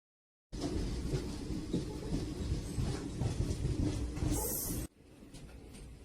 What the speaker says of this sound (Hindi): हमारी ट्रेन आ गई है और ट्रेन स्टार्ट भी हो गई है।